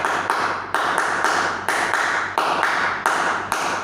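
Group clapping of the HW clap at a Hizbul Wathan scouting orientation event for high school students, sharp unison claps in a steady rhythmic pattern, about nine loud accented strikes with brief pauses, no talking.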